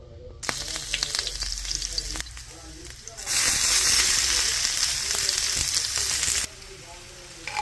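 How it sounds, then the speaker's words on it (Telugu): Onions frying in oil for an egg fry, a steady broadband sizzle that jumps much louder midway and then drops back, with stirring clicks throughout. "ఇలాగా ఆయిల్ వేసుకొని ఆనియన్స్ అంతా బాగా రెడ్గా ఫ్రై చేసుకోవాలి."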